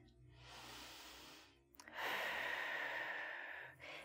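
Breathing during a yoga stretch: a long, faint inhale and a fuller exhale, close and soft against a quiet room.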